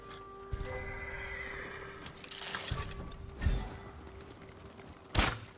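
A horse whinnies in Ghost of Tsushima near a stable, a sharp neigh followed by hooves clip-clopping and a few heavy thuds, fairly close against a quiet backdrop.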